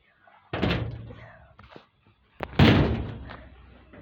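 A door is pushed shut but fails to close properly, making two heavy thuds about two seconds apart, with quiet rattles between and a voice talking nearby.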